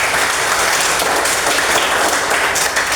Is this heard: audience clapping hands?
yes